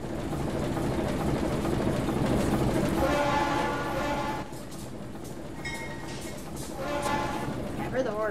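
A train horn from a DLC locomotive in the Trainz railway simulator sounds in sustained tonal blasts over rumbling rail noise, with a second shorter blast near the end and faint background talk.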